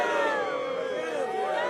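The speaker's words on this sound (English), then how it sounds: "Bloodthirsty crowd." Bloodthirsty crowd gathered around a bludgeon duel in Kingdom Come: Deliverance, a steady, dense babble of many voices cheering and murmuring at moderate distance without a break.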